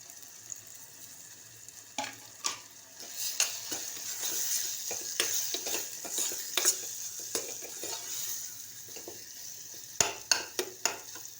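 Spoon stirring coconut paste and powdered spices into onion and tomato frying in a pan, quiet sizzle under intermittent scraping and clinks of the utensil against the metal pot, close and without talk.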